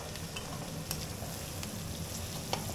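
Cooked basmati rice and beans fry in a pan for fried rice, making a faint, steady sizzling hiss with a few light clicks. No one speaks.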